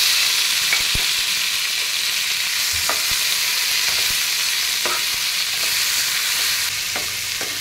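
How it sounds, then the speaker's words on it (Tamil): Tomato and ridge gourd sauté in a hot pan, a continuous bright sizzle broken by occasional soft knocks of the stirring spoon, close and alone with no talking. "அதையும் போட்டு இதில் வதக்குறேன்."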